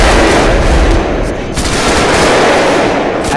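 Heavy gunfire in a Vietnam-era Viet Cong mission video game, loud and dense, with continuous automatic bursts packed close together throughout and no pauses.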